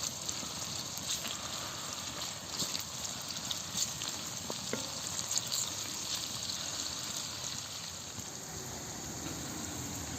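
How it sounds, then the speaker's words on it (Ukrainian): A steady, soft sizzle of onions frying in lard in a pan, continuous and even, with a faint clink or two of utensils. "Цибулька вже на сковороді і обсмажується."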